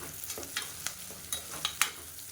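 Small chilies and onions sautéing in a pan for chicken varuval, with a soft low sizzle punctuated by several quick, crisp spatula scrapes and taps at irregular intervals.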